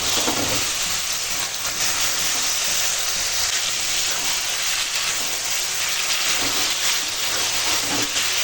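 Vegetables and spices sizzle in a pan after a splash of water, a dense, steady hiss that stays loud and even throughout without voices.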